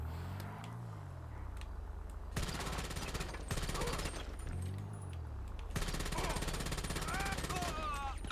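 Bursts of automatic gunfire in GTA 5 Online, two long sustained rattling volleys separated by quieter stretches with a low engine-like hum and faint talk in the background.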